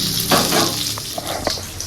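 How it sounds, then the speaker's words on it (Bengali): Steady sizzling and hissing of gram-flour-coated fish frying in hot oil, with a few sharp crackles and pops breaking through, close by and fairly loud. "মাছের তেলটাকে বেসনের মধ্যে দিয়ে আর ভাজছি"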